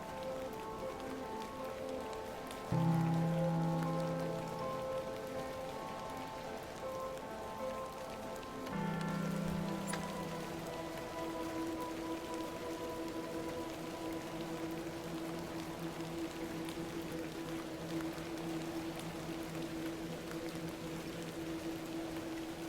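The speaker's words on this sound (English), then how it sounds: "Little rain is no bother." Steady rain falling in an old-fashioned video game, a soft continuous patter on surfaces that runs the whole stretch, with brief tonal swells of music or ambience layered over it.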